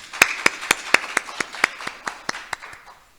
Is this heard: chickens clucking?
no